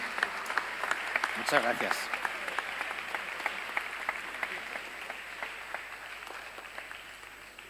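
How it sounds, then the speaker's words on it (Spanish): Audience applause at a diocesan vocations congress, steady clapping through the whole stretch with a voice speaking briefly over it near the start. "mientras recibes este fuerte aplauso otra vez de la gente"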